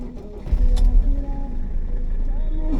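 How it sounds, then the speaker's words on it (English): A car's engine idles steadily after being started, a low continuous rumble with a brief louder swell near the start, while someone talks over it. "Let's get my car on, so I don't burn up the battery."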